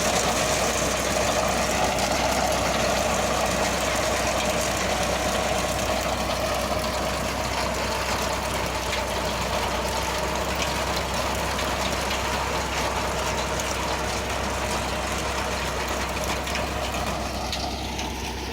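A tractor engine runs steadily in low gear while pulling a potato digger, a low rumbling drone with mechanical clatter, close and unchanging, with no voices.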